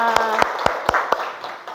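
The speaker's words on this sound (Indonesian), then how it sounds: "Tepuk tangan dulu untuk semuanya." Children in a school classroom clap along with a teacher, with about five sharp, evenly spaced claps standing out over a busy background of voices and rustle.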